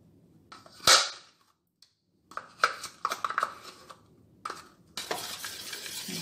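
Melted cream and chocolate being stirred in a pot, with a spoon scraping and clinking in bursts, including one sharp knock, separated by brief pauses.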